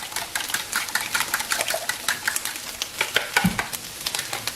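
Eggs whisked in a bowl for breakfast bowls make a rapid, steady run of light scraping clicks throughout, close and fairly quiet, with no talking.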